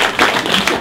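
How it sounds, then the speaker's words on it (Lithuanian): Audience clapping to welcome a performing group on stage, a brief, steady wash of applause from a crowd. "audringais plojimais pasveikinkim Aitvarus"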